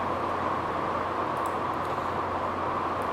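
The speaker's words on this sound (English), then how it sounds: "Apologies for the rain, incidentally, on the roof of my office" Heavy rain drums steadily on an office roof, a loud, dense, unbroken hiss and patter that fills the whole stretch with no pauses and no voices.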